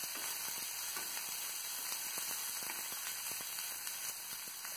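Onions softening in a pan for bhindi sabzi, giving a steady, quiet sizzle with faint crackles throughout and no voices.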